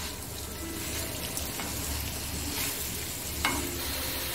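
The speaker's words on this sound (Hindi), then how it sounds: "अब हम इसे साइड से सेंटर तक हिलाएंगे।" Onion chutney with sugar and salt stirred and frying in a pan, a steady sizzle under scraping stirring strokes, close and continuous with no voices.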